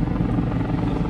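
Helicopter rotor drone passes steadily overhead near a stadium at the Mexico vs Poland World Cup match in Qatar, a loud continuous low thrum with no talk.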